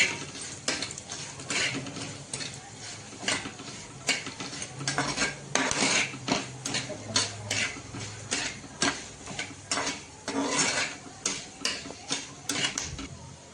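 Spices being stirred in a pan for a Marathwada-style black masala mutton, with repeated clinks and scrapes of a metal spoon against the pan in an irregular rhythm, close and fairly loud, with no talking.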